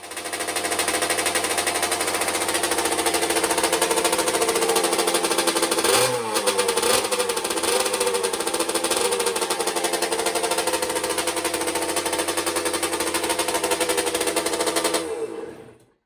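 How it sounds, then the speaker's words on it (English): A 1982 Suzuki RM60 two-stroke dirt bike runs loud and close, its small engine buzzing steadily with a brief stumble partway through before it carries on and then cuts off. "Let's try to kick this over a few times."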